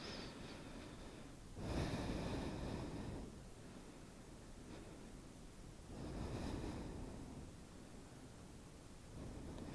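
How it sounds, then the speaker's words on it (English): Slow, deep breaths during a yoga hip-strengthening pose with the hands lifted, heard as two long, airy inhale-exhale swells close to the microphone, each lasting a few seconds, over a steady soft hiss with no talking. "We're going to lift the hands and breathe."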